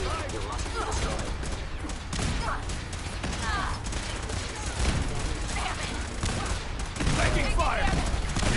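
Sustained gunfire in the Fallout 4 video game, with dense overlapping bursts and shots running continuously at close range, growing louder near the end, while game voices shout over the shooting.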